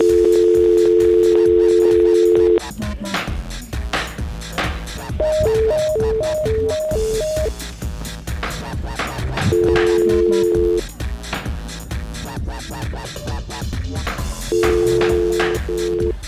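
Phone line ringing while calling a legal expert: repeated electronic ring tones in steady bursts, one higher patterned burst in the middle, set against busy background music and sound effects.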